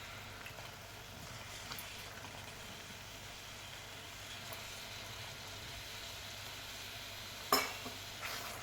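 Paneer cubes fry in masala gravy in a pan with a constant soft sizzle, a few faint stirring scrapes and one sharper clunk of the spoon near the end.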